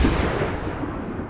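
A single loud, close sniper rifle shot in Overwatch, fired at a player's head, with a heavy boom and a long decaying rumble.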